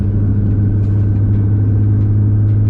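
Nissan GT-R engine droning steadily while driving, a constant low rumble with a deep hum and no clear revving, loud and close with nothing else over it.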